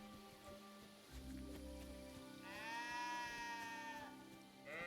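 Sheep bleat in the medieval role-playing game Kingdom Come Deliverance 2 at night, one clear wavering bleat after a low background drone, fairly faint, with no talk.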